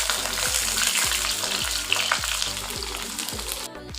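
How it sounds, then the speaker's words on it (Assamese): Pieces of pointed gourd fry in hot oil with a steady sizzle, while a utensil scrapes the pan in regular strokes. "এতিয়া মই পটলখিনি তেলত দি লৈছোঁ।"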